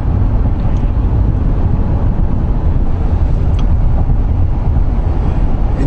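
A Ford Edge crossover with a 240-horsepower EcoBoost engine driving on the road: a steady, even hum of road and wind noise with the engine barely noticeable, and no talking.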